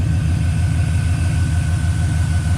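Car engine idling roughly with a misfire after an ignition coil was disconnected, a loud, close, steady low rumble with an uneven pulsing beat throughout.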